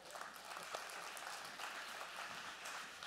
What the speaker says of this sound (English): Let's give him a big hand as he comes out here.